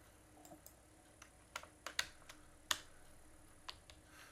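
Sparse keystrokes on a computer keyboard while entering data into a spreadsheet, a few scattered clicks with pauses between them, close and quiet.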